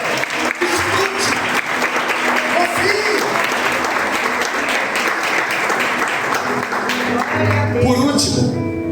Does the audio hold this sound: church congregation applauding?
yes